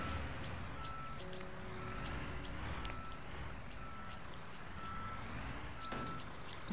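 Truck reversing toward a trailer for coupling in the Bau Simulator construction game, steady electronic backup beeps repeating over a low idling engine rumble, with occasional soft clunks and hisses.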